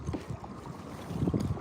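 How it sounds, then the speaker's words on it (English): Gusty outdoor wind buffets the microphone in a steady low rumble, moderately loud and continuous with slight surges, with no voices over it. "I'm trying to get out of this wind."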